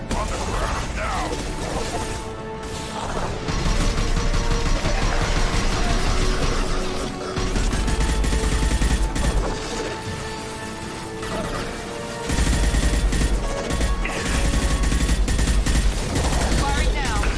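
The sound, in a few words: gunfire in the Mass Effect 2 video game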